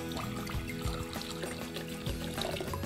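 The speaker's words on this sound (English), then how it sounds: "Let me add some water first." Water pours into a flower vase as a steady trickling stream with a few gurgling bumps, close and moderately quiet, no talking.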